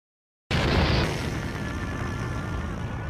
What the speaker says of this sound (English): I will explode this video with the bomb.